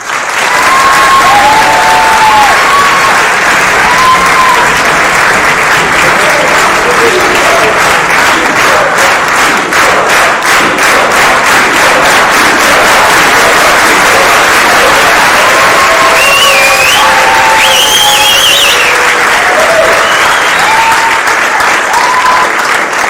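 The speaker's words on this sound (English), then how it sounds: "I really want one big applause for all of you" Sustained applause from a large crowd at a general assembly council meeting, loud and dense for the whole stretch, with scattered whoops and voices over the clapping.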